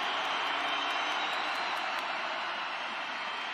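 A college football stadium crowd at a Montana versus Southeast Missouri State playoff game roars steadily, a broad distant wash of cheering sustained throughout.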